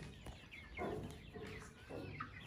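Chickens cluck and squawk in a busy, overlapping chorus, close by on a ranch, with a few louder bursts standing out.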